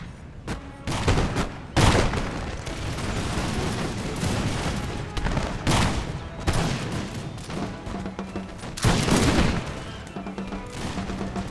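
Musket volleys from line infantry and Minutemen in an American Revolution battle game crack out in repeated loud bursts, several ragged fusillades overlapping with booming shots and battlefield din between them.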